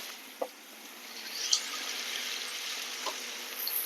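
Water trickles and splashes softly into a cooking pot of chicken with chili and turmeric powder, a faint steady pour with a couple of light clinks, no talking.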